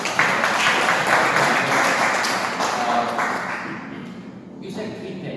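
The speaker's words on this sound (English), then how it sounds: "So, you know, a big round of applause for" An audience at an art talk breaks into a round of applause, a dense burst of clapping that gradually thins and fades out over a few seconds.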